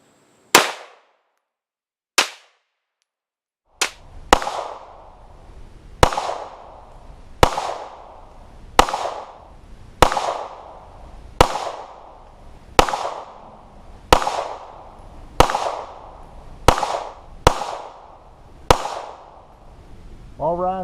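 A Glock 19 Gen 3 pistol with an OEM magazine fires about fifteen sharp, loud shots: two spaced single shots, then a steady string at roughly one-second intervals, each with a short ringing tail.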